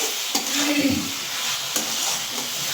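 Masala for a winter-vegetable pomfret fish curry with potatoes and beans fries and sizzles in a pan, with steady close hiss and a couple of sharp scraping stirs, no talk.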